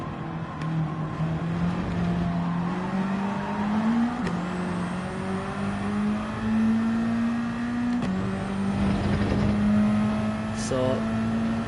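Race cars battle in Gran Turismo 7, a continuous engine drone rising in pitch with gear shifts at intervals, other cars mixed in close by throughout.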